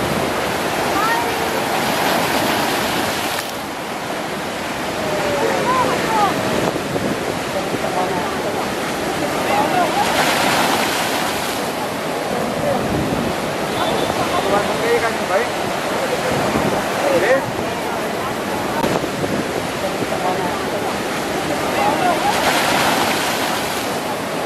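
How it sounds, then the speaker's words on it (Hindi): Strong waves surge and rush onto a beach in Kerala, a loud, continuous roar with wind buffeting the microphone and recurring swells, while someone talks over the noise. "लेकिन अब तो पानी बहुत ज़्यादा तेज़ है"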